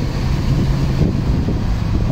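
BMW 325i E30 cabriolet with a 2.5-litre engine on a test drive, a steady low engine drone mixed with heavy wind rush over the open car, no talk.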